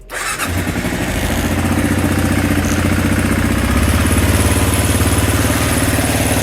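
A 2005 Kawasaki KLR 650 single-cylinder motorcycle starts on choke, a brief starter whir catching into a loud, close, steady thumping idle that runs on evenly to the end.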